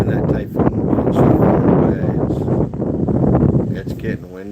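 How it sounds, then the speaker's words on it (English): Strong wind gusting in Bohol, Philippines, as a typhoon approaches, buffeting the microphone with a loud, continuous roar that surges and eases over a few seconds, with a voice faintly mixed in. "it's getting windy. Even right now it's starting to pick up"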